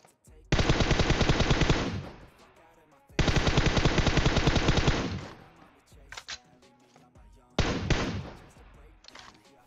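Long bursts of rapid automatic gunfire in PUBG Mobile, loud and close, with brief pauses between volleys and a few shorter bursts near the end.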